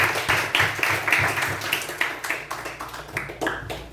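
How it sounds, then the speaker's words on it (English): An audience claps after a youth leadership speech with a mix of sharp individual claps and scattered pattering hands, moderately near and tapering gradually. "Everyone, big round of applause."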